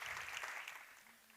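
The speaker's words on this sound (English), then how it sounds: "Big applause." Audience applause after a startup pitch at a women's investment summit, a broad burst of clapping that fades steadily over a second or so and ends quietly.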